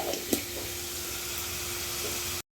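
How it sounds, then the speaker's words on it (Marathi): Onion sautéing in a pan, a soft, even sizzle with a faint clink near the start, fairly quiet and cut off abruptly at the end. "हे बघा मस्त कांदा परतून घेते"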